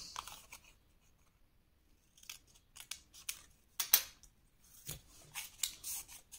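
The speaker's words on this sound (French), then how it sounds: "Ensuite, vous allez couper dans les angles." Scissors snip into the corners of folded scrapbooking paper for a handmade mini album, giving a quiet series of short, crisp cuts in irregular bursts with pauses between them.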